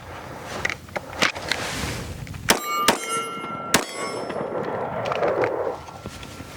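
Rounds from a Ruger RXM pistol strike steel targets, giving several sharp, ringing metallic clangs at irregular intervals, close and loud against a faint outdoor background.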